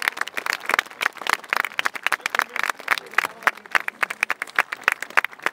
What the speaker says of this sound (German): So, und jetzt der Applaus für Hannes Ach für diese unglaubliche Show.